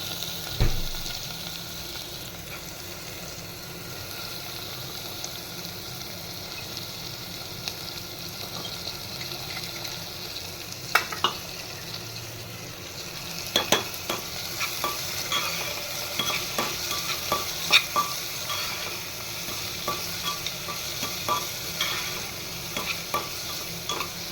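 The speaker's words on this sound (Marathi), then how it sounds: "छानपैकी आपण ही डाळ आता परतवून घेतो आहे तेलावर." Soaked dal is stirred and sautéed in oil for dal khichdi, with a continuous sizzle and a long run of scraping, clicking spoon strokes against the pan that grow busier and more frequent in the second half.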